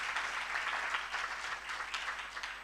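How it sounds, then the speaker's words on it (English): A forum audience claps their hands in steady, dense applause that holds at an even level throughout, with no speech over it. "why don't we clap hands?"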